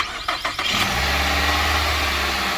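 A 2020 Nissan Rogue engine cranks briefly with a couple of sharp starter pulses, then catches after a jump start and settles into a steady, loud idle close by.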